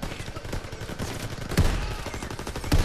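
A sniper rifle shot in Call of Duty WWII, with two heavy, booming reports among steady battlefield gunfire and rumble, loud and close.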